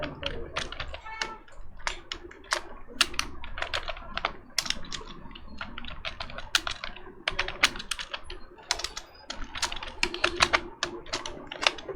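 Rapid clicking of a computer keyboard as Python code is typed, dense irregular keystrokes running steadily throughout, close and crisp with no talk.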